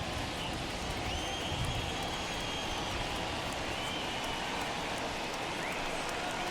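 Steady rain falls throughout a baseball video game, a dense even hiss with no breaks, heard at moderate level with no talking over it.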